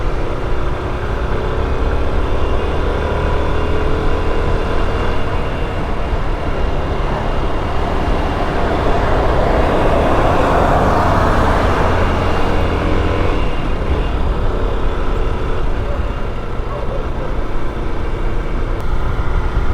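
Heavy road traffic in Batangas, with many vehicles rumbling past in a continuous loud roar that swells and fades as engines go by, with no voices.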